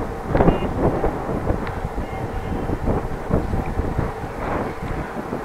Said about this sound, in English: wind in the face.